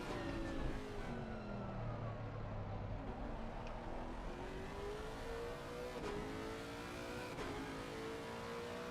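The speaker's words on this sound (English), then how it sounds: "That was the sound of a Lexus engine." Lexus race car engine in a racing video game at Donington Park, a loud sustained drone with engine pitch sweeping up and down through gear changes, with no talk.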